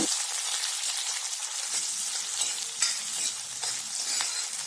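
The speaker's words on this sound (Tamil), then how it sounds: "வெங்காயம் நல்லா பொன்னிறமாக வர வரைக்கும் வதக்கி விட்டுக்கோங்க" Onions sautéing in a pan for sambar, a steady close sizzle with repeated light stirring scrapes throughout and no talk.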